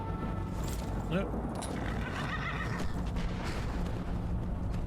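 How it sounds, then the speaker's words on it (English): A horse in the video game Skyrim gives a short, fairly distant whinny over a constant bed of ambient game sound with no other clear events. "Our usual horse."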